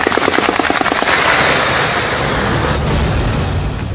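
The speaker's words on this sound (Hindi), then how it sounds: "मुजफ्फराबाद में विद्रोहियों पर ओपन फायर।" Loud, rapid bursts of automatic gunfire in open firing on protesters near the Neelum Bridge area of Muzaffarabad, a fast rattling stream of shots fading into a long booming roar.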